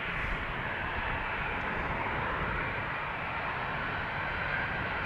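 Airbus A350 jet engines on takeoff from runway 36L at Amsterdam Schiphol Airport, a steady, broad roar heard from a distance, even in level throughout with no voices.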